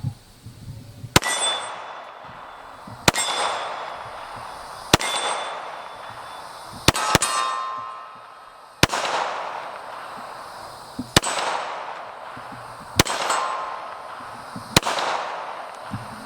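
Eight sharp shots from a Glock 21 SF .45 ACP pistol crack out at a steady pace about two seconds apart, each loud report ringing and echoing off into the open before the next.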